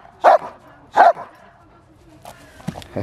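A family dog being assessed as a possible police dog in Holland barks twice, loud and close, with people talking softly in the background afterwards.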